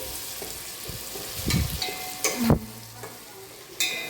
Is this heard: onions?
yes